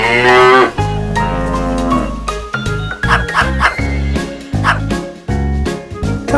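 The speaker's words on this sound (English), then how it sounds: "He then started talking to the cow." A cow in a toy-play story mooing loudly and close, a long drawn-out low call followed by a series of shorter lowing bursts, with yapping dog-like sounds mixed in.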